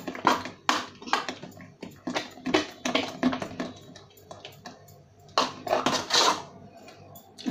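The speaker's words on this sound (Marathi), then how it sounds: "या सर्व पिठाला व्यवस्थित मिक्स करून घ्यायचं आहे." A spoon scrapes and clatters around a bowl as a turmeric-spiced rice-flour batter for ras khaproli is mixed, giving repeated, irregular knocks and scrapes at close range with short pauses, with no talking.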